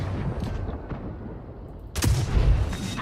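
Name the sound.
tank cannon shot in video game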